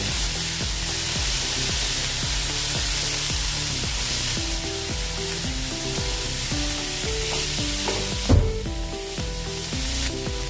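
Sabudana khichdi with potatoes is stirred in a hot pan, a continuous sizzle and frying hiss overlaid with repeated rhythmic scraping strokes and a brief louder clatter near the end, no voices.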